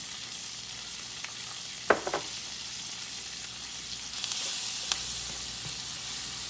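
Onions frying in butter with a pinch of salt, a steady close sizzle throughout with a few brief stirring clinks and scrapes, no talking.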